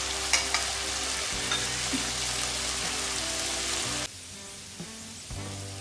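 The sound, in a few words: potatoes frying in a pan for potato brinjal fry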